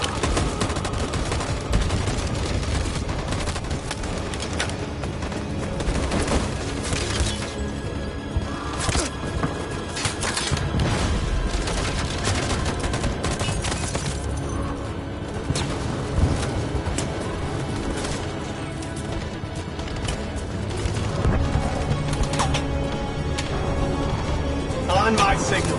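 A squad firing in the video game Detroit: Become Human, bursts of rapid gunfire and volleys over a long stretch with game ambience, voices speaking at times over the shooting.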